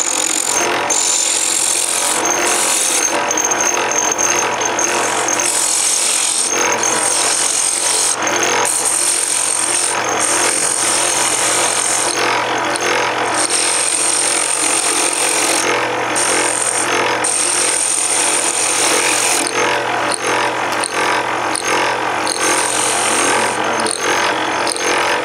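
Power tool trimming a small wooden birdhouse ornament, a loud continuous high-pitched whine with rapid stuttering cuts, steady throughout with no talking.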